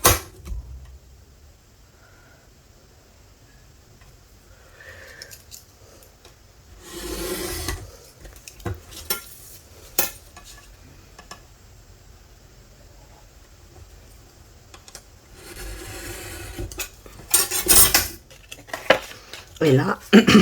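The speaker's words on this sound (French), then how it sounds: "Et je coupe la première et cette ligne et cette ligne." Scissors or a blade cutting paper tags along drawn lines for scrapbooking, a few short crisp rasping bursts separated by quiet handling noises, close and fairly faint.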